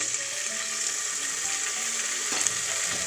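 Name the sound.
chopped potato pieces frying in pan for masala rice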